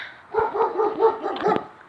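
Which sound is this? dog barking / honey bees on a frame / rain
dog barking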